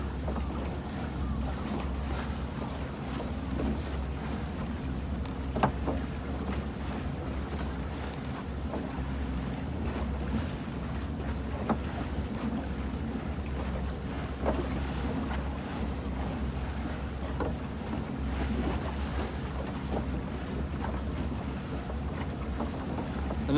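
A beach-launched fishing boat runs at sea after a northerly gale while setting nylon herring nets at about 6 knots, with a steady low engine drone, wind buffeting the microphone and wash of waves throughout, loud and continuous.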